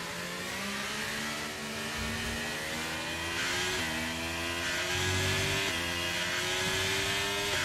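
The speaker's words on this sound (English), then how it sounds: "I'm trying to stop the wheel spin, but I got more anyway" A car engine in a racing video game revs hard through rising and falling pitch sweeps as the wheels spin, a steady whining drone with repeated gear-like steps and no voices.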